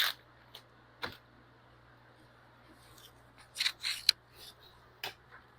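Pruning shears snip a branch from a deciduous bonsai tree: a few sharp, close cuts and rustles scattered over a quiet background with a low steady hum.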